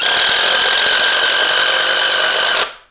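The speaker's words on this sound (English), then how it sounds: "Gonna run our compressor tool down here." A valve spring compressor tool works on a Gen V LT4 engine during a valve spring upgrade, giving a loud, steady, close mechanical whir that holds for over two seconds before quickly dying away.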